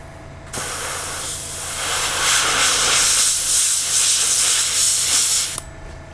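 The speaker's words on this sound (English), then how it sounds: "I'm going to hit it with my airbrush just a little bit, just to kind of speed this process up" An airbrush blows a steady, loud hiss of air for about five seconds over paint on a BT-7 tank model, starting and stopping abruptly.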